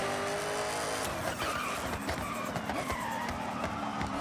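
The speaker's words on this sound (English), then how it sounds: "It's just the exhaust sound, honestly. The actual engine sound. The turbo sound underneath is great." Car engine and turbocharged exhaust in the racing game Forza Horizon, a raspy, throaty roar with rising and falling revs and some tire squeal, loud and continuous.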